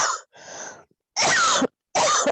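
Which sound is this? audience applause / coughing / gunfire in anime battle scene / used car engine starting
coughing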